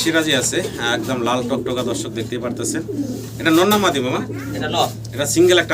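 Pigeons at a pigeon seller's farm make repeated deep, rolling coos close by, overlapping one another in an uneven rhythm against a low constant hum.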